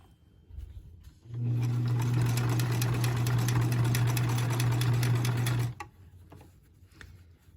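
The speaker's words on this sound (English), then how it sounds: "So I'm going to put my pressure foot down and I'm going to sew this stretch" A sewing machine runs steadily for about four seconds, stitching a straightened stretch of fabric for a glasses case with a close, even hum and rapid needle chatter, then stops abruptly, leaving quiet handling noise.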